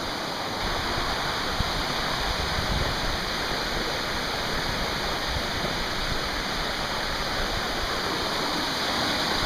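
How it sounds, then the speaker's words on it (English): A waterfall at Sandiaoling roars steadily at close range, a dense, unbroken rush of falling water filling the whole clip with no voices. "So, reached the top of the next waterfall."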